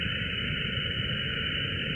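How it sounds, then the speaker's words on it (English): A steady hiss of static from an HF amateur radio receiver runs without a break, even and moderately loud, with no voices. "we got the radio in there now. You can hear that."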